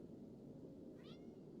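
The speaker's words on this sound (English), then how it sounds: "Shut up, stupid cat." A house cat gives a single short meow, faint and fairly distant, rising over a steady background hum with no talking.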